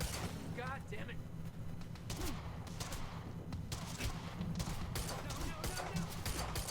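Bursts of automatic gunfire and scattered shots from a Quantum Break firefight crackle through the scene at moderate volume. Frantic voices talk over the shooting throughout.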